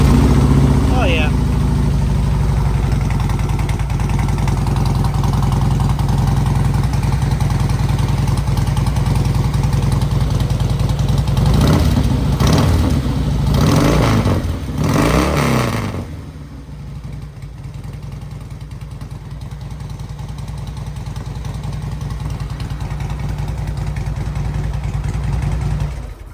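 A 2012 Harley-Davidson Softail Deluxe motorcycle, warm rather than cold, idles with a steady low rumble, then revs in a short burst of throttle blips before settling back to a lower idle, close and loud.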